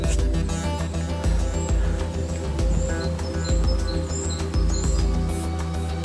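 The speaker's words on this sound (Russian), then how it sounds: "Птички по-весеннему поют." Birdsong drifts through a snowy winter forest with deep snow, scattered chirps and short whistled calls over a loud, steady low engine drone and rumble throughout.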